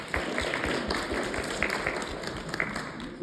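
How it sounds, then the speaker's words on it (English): A small audience at a municipal election candidate forum gives the moderator a quick round of applause, sparse individual claps heard close in a modest room. "so can I get a quick round of applause for Ed?"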